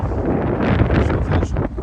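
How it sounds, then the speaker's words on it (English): A 25 mph wind gust during a San Antonio hailstorm buffets the microphone with a steady, loud roaring rush lasting under two seconds, with no talk. "We just got a 25-mile-per-hour wind gust."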